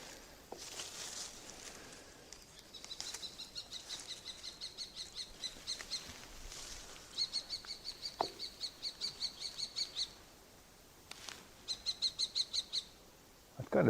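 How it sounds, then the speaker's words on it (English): Repeated sharp bird calls in fast bursts of evenly spaced notes, several runs separated by pauses, heard outdoors on a farm during a harvest and crop check, with faint rustling and steps in the background. "Ah, it's some kind of hawk."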